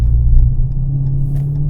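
A 2017 Dodge Challenger R/T Scat Pack V8 gives a deep, steady engine rumble, loud and close, holding a low drone through the short stretch with no talking.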